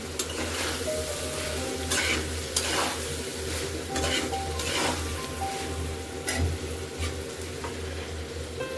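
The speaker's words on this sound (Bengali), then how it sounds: "এবার আমি চিংড়িগুলো দিয়ে দিব" Prawns dropped into fried masala sizzle loudly and continuously, with frequent spatula scrapes and clatter against the pan as everything is stirred together up close.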